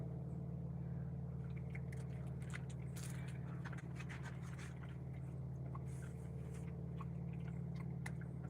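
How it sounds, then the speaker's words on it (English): Someone chewing a snack while its wrapper crinkles, with irregular bites and rustles over a steady low hum, fairly faint and close. "She's hearing all the wrapper and the chewing."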